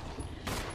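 A single gunshot bursts out in Resident Evil 1 partway through the short moment, loud and sharp over steady game background noise, with no talking.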